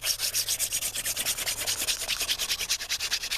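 Hand drill friction fire: a wooden spindle spun between the palms against a wooden board, giving a steady rhythmic rubbing scrape in quick back-and-forth strokes, close and alone.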